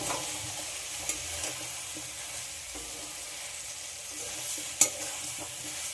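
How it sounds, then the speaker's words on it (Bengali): Yam and potato being sautéed with spices in a pan, a steady soft sizzle running throughout with a few faint scrapes and one sharper clink near the end, no voices. "মশলার সঙ্গে ওলা আলু খুব ভালো করে কষিয়ে নেবো"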